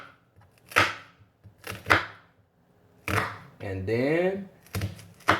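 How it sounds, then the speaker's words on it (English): A knife cuts slits into an onion on a board, making several sharp close chops spaced about a second apart, with someone talking briefly between them. "And the onion, I'm gonna just kind of just put some slits in it like this."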